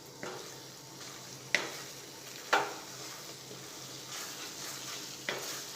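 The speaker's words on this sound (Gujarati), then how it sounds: "ધીમા ગેસ પર જ આ રીતે ઘી સાથે શેકી લઈશું." Carrot halwa roasts in ghee in a pan over a low flame while being stirred: a steady soft sizzle runs throughout, broken by a few sharp spatula scrapes and knocks against the pan. No talking.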